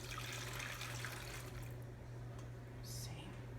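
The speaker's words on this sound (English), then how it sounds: "Now you take the brine and you just pour it over the pork chops" Brine is poured from a container over pork chops in a bag, a soft continuous liquid splash and trickle under a steady low hum, faint and close, with no talk.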